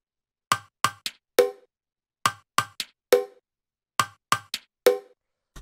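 Bongos and a small tap percussion sound in a future garage groove, crisp woody hits in a repeating four-stroke pattern, dry and close with silence between phrases.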